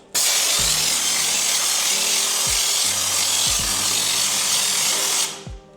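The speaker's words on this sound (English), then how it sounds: "as Liam comes along and sprays, it just helps limit the overspray." Underseal sprayed onto a Land Rover Series 3 tub makes a loud, steady hiss with a low mechanical hum beneath it. The hiss cuts off just before the end, and nobody speaks.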